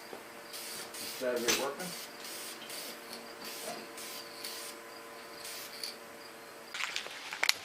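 VHT wrinkle paint hisses from an aerosol can onto a valve cover in short repeated bursts, close and fairly soft, with a brief spoken line partway through.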